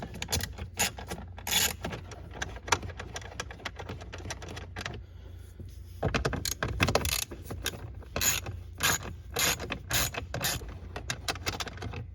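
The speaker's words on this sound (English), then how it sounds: "There's 7mm. So get your ratchet." A ratchet backs out 7mm bolts from the shroud of a 2011-2017 Jeep Grand Cherokee, working the passenger blend door area. It gives rapid, close metallic clicking in repeated bursts, with brief pauses between runs of strokes.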